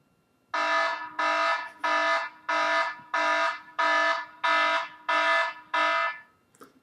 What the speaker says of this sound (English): my ringtone